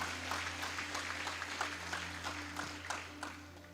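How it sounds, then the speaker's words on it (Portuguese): A church congregation claps for the Lord during a worship service, a steady patter of many hands at moderate distance over a low hum. "dá um forte aplauso ao Senhor"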